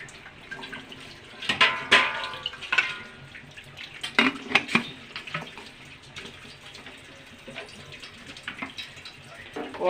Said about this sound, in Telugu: కొంచెం వాటర్ వేయాలండి.